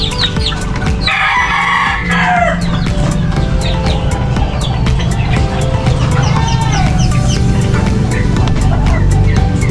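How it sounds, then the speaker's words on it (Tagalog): Chickens in a poultry coop, with chicks and hens clucking and peeping close by, a rooster crowing in bursts, and a constant busy flock murmur throughout. "Ito po, sisiw ng manok."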